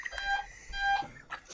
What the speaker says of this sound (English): You can hear it beeping, but it's not going.